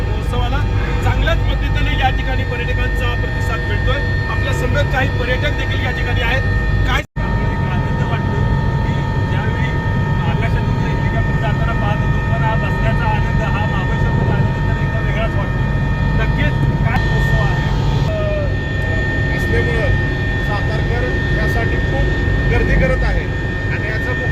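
Loud, constant rotor and engine roar of a helicopter in flight over Mahabaleshwar during the Mahabaleshwar festival fills the whole stretch, with voices talking underneath.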